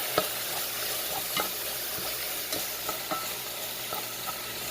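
Corn fries in a pan with a soft continuous sizzle, and light stirring clicks land every half second or so. The sound is close and quiet, with no talk.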